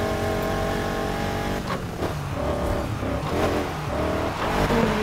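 A race car engine roars loud and steady through the final lap of a street race in Need For Speed Heat, holding a constant high drone with slight rises in pitch as it accelerates, no voices over it.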